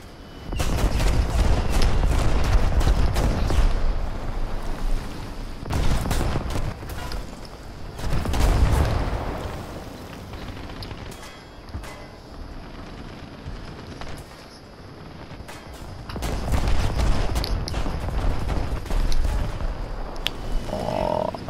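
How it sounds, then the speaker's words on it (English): Gunfire strikes an armored tank in War Thunder, a French vehicle under attack from many directions, heard as dense rattling bursts of impacts and shots in loud clustered volleys with quieter gaps between them. "I'm getting shot by everything."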